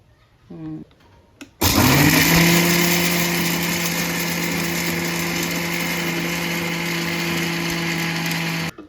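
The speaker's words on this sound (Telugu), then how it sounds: "ఇప్పుడు మిర్చి పట్టేసుకుందాం ఇంకా మూత పెట్టేసి" Mixer grinder whirring loudly as it grinds dried red chillies with fried spices for karappodi, a steady high-pitched motor drone starting abruptly after brief talk and running continuously to the end.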